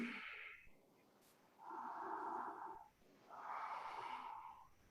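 Slow, full deep breaths during a yoga sequence, close and quiet, two long airy inhale-exhale sounds, each lasting more than a second, with soft breathy gaps between.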